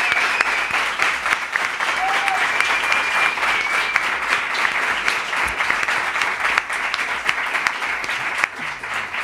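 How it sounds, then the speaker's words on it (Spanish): A studio audience at a Spanish TV show gives sustained, loud applause that fills the whole stretch, then eases slightly near the end. "vamos a dedicar este maravilloso y caluroso aplauso"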